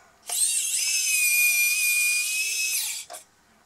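The small electric arm motor of an RC Manitou telehandler whines at a high, steady pitch for almost three seconds as the arm extends, then cuts off with a brief final buzz, heard alone up close.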